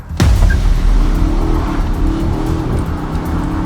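A BMW XM launches with a sharp burst and then roars as it accelerates hard, the engine note climbing steadily, loud and close.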